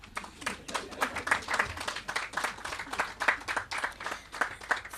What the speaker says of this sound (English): You could clap.